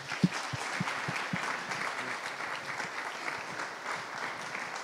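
A lecture audience in Los Angeles applauds steadily to welcome the speaker, dense clapping from a roomful of people with a few louder nearby claps, continuing evenly throughout.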